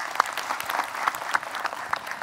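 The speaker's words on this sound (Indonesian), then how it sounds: "Tepuk tangan dulu buat semuanya." An audience applauds at a religious gathering, a dense, fairly loud burst of many hands clapping with a few distinct sharp claps over the steady patter.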